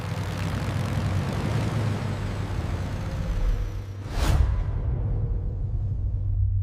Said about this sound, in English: The propeller spins.